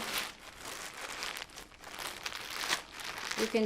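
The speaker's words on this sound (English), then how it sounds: "normally you can just peel the bag down and flip it over" A plastic bag is peeled down off a block of pottery clay, giving close, continuous crinkling and rustling with a few crisp tearing bursts that stay fairly quiet.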